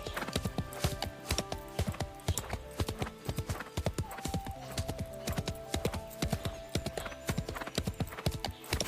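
Hooves of a horse named Reddy clip-clop in a steady walking rhythm in the Love and Deepspace game, fairly quiet and close, with an occasional snort and no talking.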